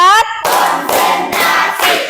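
A class of children claps hands in a short counted group of four, with sharp broadband bursts of applause following a brief sung voice, close and loud.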